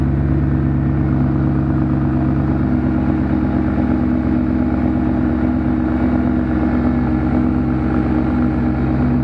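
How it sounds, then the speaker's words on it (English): A BMW E39 M5 with the S62 V8 idles after a cold start, a steady, smooth, close low rumble with an even throb and no revving, heard alone throughout. "this is from a cold start, the Vanos on this engine is exceptionally quiet there are zero vibrations"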